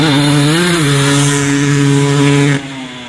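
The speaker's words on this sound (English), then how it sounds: "This is Eric on his 2001 Kawasaki two-stroke KX250." A 2001 Kawasaki KX250 two-stroke dirt bike engine on a grand prix track drones loud and close at steady high revs, a brief pitch dip early on, then cuts abruptly quieter near the end.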